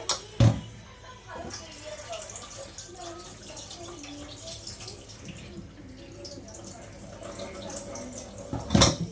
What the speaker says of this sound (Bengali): দেখো এইভাবে ময়দাটা আমি ধুয়ে নেব বারবার করে